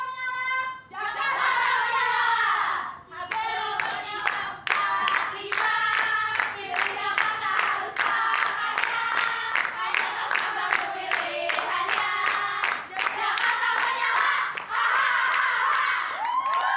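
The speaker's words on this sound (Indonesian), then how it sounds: "Saya ingin mendengar dulu yel-yel dari pasangan nomor urut 3." A crowd of supporters for candidate pair number 3 chants in unison with rhythmic clapping at a Jakarta election debate, loud and sustained, voices rising and falling with steady hand claps throughout.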